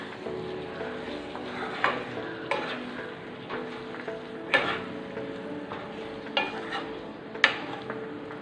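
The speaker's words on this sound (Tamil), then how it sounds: "ஸோ இதையும் நம்ம வந்து இந்த மசாலாவோடு நல்லா மிக்ஸ் பண்ணிடலாம்." Brinjal pieces being stirred into prawn masala in a pan, a soft steady sizzle with periodic scraping and clinking strokes of the spoon, close and fairly quiet.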